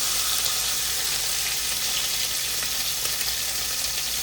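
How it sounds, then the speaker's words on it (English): Turkey wings brown in a roasting pan with a constant, dense sizzle and crackle of hot fat, close and steady throughout. "I'm going to start them out in my roasting pan. I just want to brown them up a little bit"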